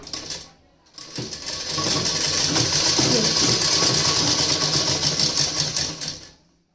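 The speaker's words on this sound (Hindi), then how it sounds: "आपको यहीं तक ही प्लेट बनानी है और इस पर भी सिलाई लगा देंगे।" Sewing machine stitching pleats on a salwar, a steady close mechanical whirr of rapid needle strokes that starts after a brief pause and runs continuously before stopping.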